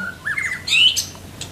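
A white-rumped shama (murai batu), a songbird, gives a short run of rising whistled notes followed by a louder sharp squawking call, close and clear with no talking.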